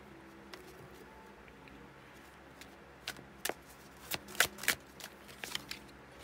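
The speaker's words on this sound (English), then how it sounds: "I put it back in and shuffled it" Tarot cards being shuffled by hand during a reading: quiet at first, then a series of crisp riffling and slapping bursts in the second half, close to the mic, with no talking.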